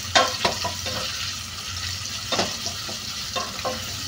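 Onions frying and being stirred in a pan over a home stove, a steady sizzle with several louder scraping stirs scattered through, close and without speech.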